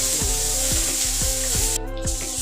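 Chicken coated in masala frying in a pan makes a loud, continuous sizzle, with regular scraping strokes repeating about twice a second as it is moved around.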